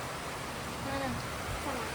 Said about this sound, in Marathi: आधी ऊन होतं अचानक पाऊस चालू झालेला आहे